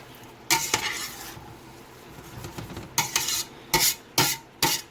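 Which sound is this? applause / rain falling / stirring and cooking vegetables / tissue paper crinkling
stirring and cooking vegetables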